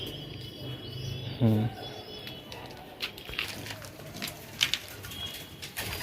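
Pigeons at a pigeon farm in Nabadwip, one short clear coo near the start with faint rustles, soft chirps and ambient noise around, and a quiet voice at times.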